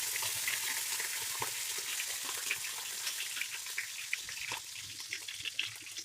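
Mustard seeds, cumin and curry leaves sizzle and crackle in hot oil for an okra curry, a steady close frying hiss dotted with small pops and stirring, no voices.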